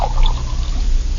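Hot water poured into a cup for instant Postum, a steady close liquid pour with a low rumbling fill that runs the whole moment at even loudness, with no talk over it.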